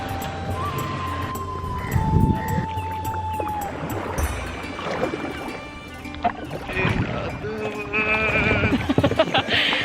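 Kayak paddles splash and knock against the water on Phewa Lake in Pokhara, giving irregular close sloshes and dripping strokes, with some wind and faint background sounds and no clear talk.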